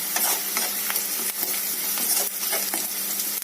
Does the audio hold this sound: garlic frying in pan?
yes